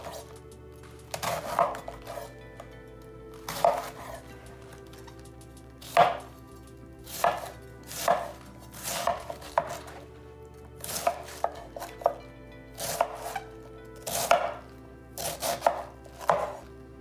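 A knife chops cabbage on a board for sauerkraut, a dozen or so sharp, close thuds falling in uneven bursts with short pauses between, alone with no talk.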